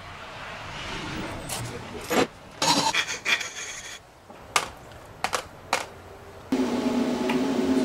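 Hand file rasps an edge onto a short piece of cut threaded rod in several short, close, scraping strokes separated by pauses, with steadier filing at the end.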